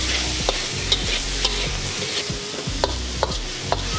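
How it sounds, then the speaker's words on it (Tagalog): Minced beef and pork frying in a pan, sizzling steadily while a utensil stirs and scrapes it in regular strokes, close and clear with no talking. "Halu-haluin lang natin yung giniling hanggang sa maluto siya at maghiwa-hiwalay."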